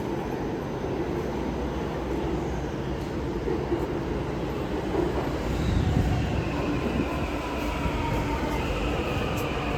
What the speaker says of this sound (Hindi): मेट्रो स्टेशन, और ये आ गए हमारी मेट्रो।